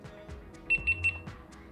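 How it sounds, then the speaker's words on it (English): A GoPro Hero 9 action camera gives three quick, high electronic beeps at even spacing as its firmware update finishes, heard clearly over a quiet room. "Oh, we got a beep. Update complete."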